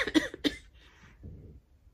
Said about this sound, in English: oh my god, this cough